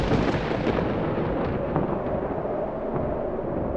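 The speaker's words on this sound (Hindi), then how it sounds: "चारों तरफ बिजली कड़कने की गूंज" A deep, continuous rumble of thunder rolls on without a break, heavy and loud.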